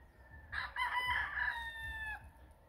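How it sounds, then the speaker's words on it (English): A rooster crows once in the Philippines, a full drawn-out call at moderate distance over low background rumble, with no talking. "there's a lot of roosters around here."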